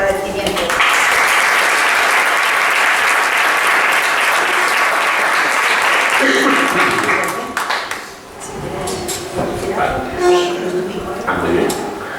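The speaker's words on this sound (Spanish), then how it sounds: "darle la bienvenida y un fuerte aplauso de agradecimiento" An audience at a book club talk applauds to welcome the speaker, with loud, dense clapping that holds steady for about seven seconds and then fades, after which a voice begins talking.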